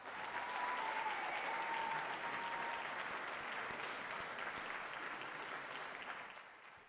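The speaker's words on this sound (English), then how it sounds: "so give them a round of applause" An audience applauds steadily for several seconds at a university awards ceremony, a dense sustained clapping that fades slightly at the end, with a faint whistle early on.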